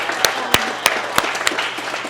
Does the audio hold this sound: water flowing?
no